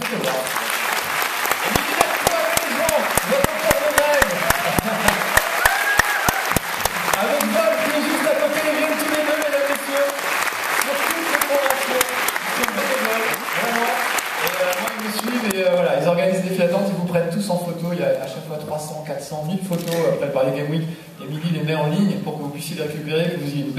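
A conference audience at Tokyo Game Show 2011 claps loudly and steadily for about fifteen seconds, then the applause fades into crowd murmur and talking.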